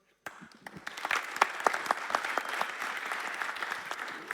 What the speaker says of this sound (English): can you try one applause?